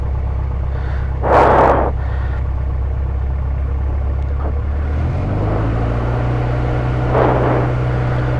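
Light aircraft engine running at 1800 rpm, a loud constant low drone with a slight pitch shift midway and occasional brief bursts of wind or radio noise over it.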